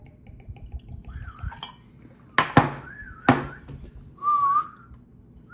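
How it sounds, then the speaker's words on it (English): A person whistles short rising and falling tones in a quiet room, interrupted by a few sharp clinks and knocks of glassware and a bottle, then one longer wavering whistle near the end. "You hear me whistle the pig?"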